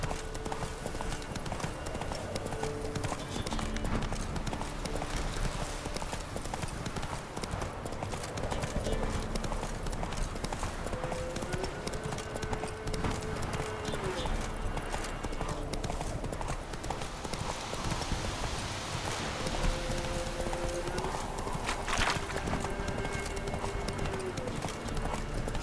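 Roach, the horse in The Witcher 3, gallops with steady rhythmic clip-clop hoofbeats at a loud, constant level, mixed with game music tones and ambient sound, with a brief whinny possible.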